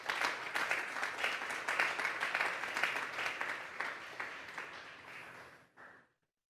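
A church congregation applauds during a Sunday service, a dense steady wash of many hands clapping that holds for several seconds, thins toward the end and stops abruptly.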